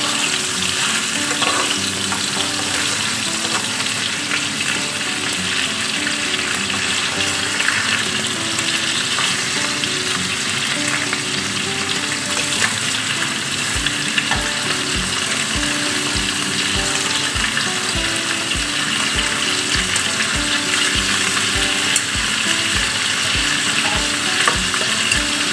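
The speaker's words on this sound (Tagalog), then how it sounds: "Fry natin siya ng konti." Lamb meat fries in a pan with a loud, unbroken sizzle and crackle held close for the whole stretch, joined partway through by a faint, steady low thumping pulse underneath.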